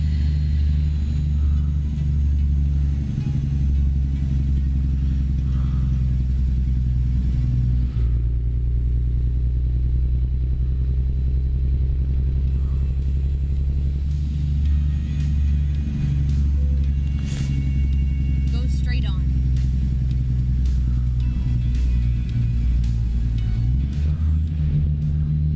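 Semi truck hauling a light 28,000-pound load of fruit accelerates, a deep steady engine rumble heard from inside the cab, with gear shifts and changes in pitch along the way.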